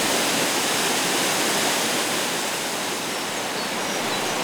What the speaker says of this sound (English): Before arriving at the waterfall area, you'll hear the crash of water.